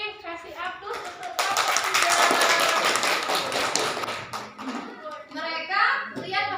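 A math class gives students at the front a round of applause, a dense burst of many hands clapping lasting a few seconds, with a teacher and children talking before and after.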